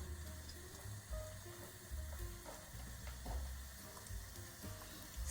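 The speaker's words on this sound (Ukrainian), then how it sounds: "Тепер акуратненько беремо пончики, знову ж таки, руки в олію і кладемо." Donut dough frying in hot oil gives a soft, even bubbling sizzle with a few light clinks and splashes, fairly quiet and steady with no voices.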